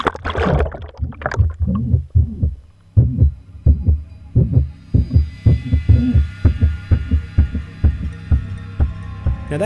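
Rhythmic low thumps repeat in a steady, heartbeat-like pulse, a rope creaking and knocking against a flotilla's edge on the water inside an abandoned, water-filled missile silo, close and fairly loud.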